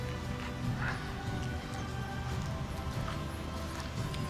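A dressage horse in a Grand Prix Special arena at Riesenbeck shifts into canter, its hooves clopping steadily under a continuous crowd and ambient hum, with faint voices mixed in.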